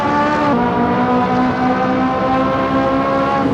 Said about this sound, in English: let's go ahead and just take a listen to this Ferrari in all of its glory